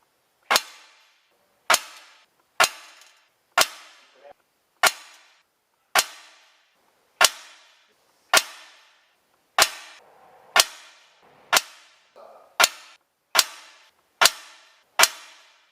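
Hellraiser Hellboy CO2-powered .177 caliber air gun firing about fifteen sharp, dry cracks at a steady, unhurried pace, each shot close and loud with a short decay and no talking.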